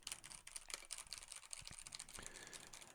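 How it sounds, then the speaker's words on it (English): Soft, quick typing on a computer keyboard clatters along continuously, picked up faint and a little distant by an Antlion ModMic 2, with a few louder key taps near the end. "I'm going to type on the keyboard."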